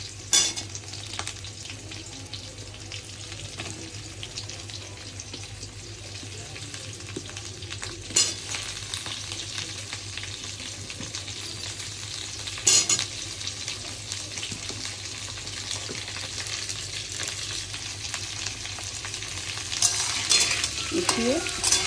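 Potatoes, pointed gourd and other vegetables frying in a pan for a vegetarian dish, a long continuous sizzle with intermittent scraping and clinks of a stirring spoon, close and fairly loud, no voices.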